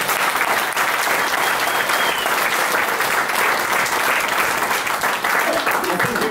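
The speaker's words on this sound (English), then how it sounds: "give one more round of applause for all the wonderful performers that have been up on the stage" Audience at a folk club anniversary concert applauds the performers, a dense steady round of clapping that holds evenly loud throughout with no break.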